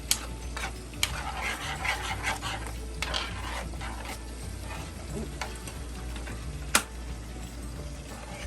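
Potatoes fry in a pan beside sausage and tomato gravy while a utensil stirs and scrapes them, a steady sizzle broken by repeated scraping strokes and a few sharp clacks against the pan.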